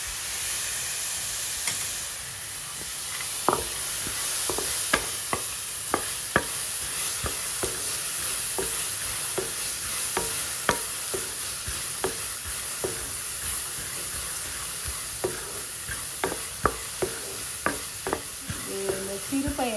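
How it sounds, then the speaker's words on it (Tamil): Soaked green gram (moong beans) roasting in a hot pan, with a steady sizzling hiss broken by regular scrapes and taps of a spoon stirring against the metal, close and fairly loud; no speech. "இப்போ அதை முதல்ல போட்டு நல்லா வாசம் வர வரைக்கும் வறுத்துக்கணும்."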